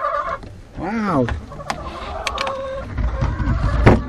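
Chickens cluck and squawk up close, with short bursts and a rising call, as a person briefly exclaims over the noise.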